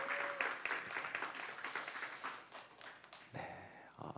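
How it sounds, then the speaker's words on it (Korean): A church congregation at a young adults' service claps together, a soft, fairly distant patter of hands that thins out and fades after a few seconds, followed by a brief quieter moment. "우리 박수하겠습니다"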